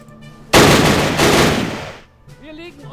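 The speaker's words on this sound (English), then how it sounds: "I'm actually going to use my sniper shot here." A sniper rifle shot in the WW2 strategy game Battle Academy fires with one loud, sudden blast and a roar that rolls on for about a second and a half before dying away, with faint voices around it.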